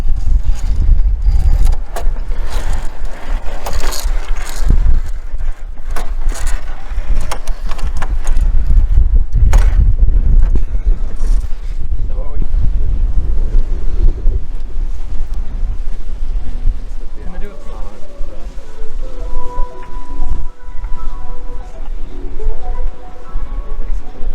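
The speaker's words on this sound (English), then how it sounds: "so we've currently reached the top of the Big Dipper, and it's not as scary as I thought" Roller coaster ride on the Big Dipper at Blackpool Pleasure Beach, with loud rumbling wheels and heavy wind buffeting the microphone throughout, the clatter easing toward the end.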